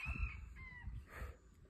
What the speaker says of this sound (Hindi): जंगली मुर्गे की आवाज़ आ रही है भाई